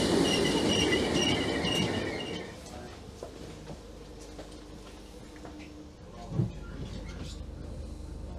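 A Merseyrail train rolls along the rails with a loud metallic squeal at first, then a steadier rumble and rattling clatter as it continues.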